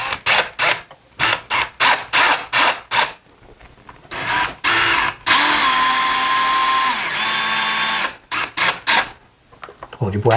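A power drill drives a screw into a window blind bracket in a series of short, loud whirring bursts, then a longer sustained spin with shifting pitch, followed by more quick bursts.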